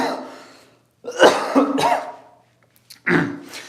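A person clears their throat several times in bursts, with a couple of rough coughing throat-clears close to the mic and short silent gaps between them.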